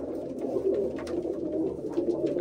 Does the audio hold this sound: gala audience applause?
no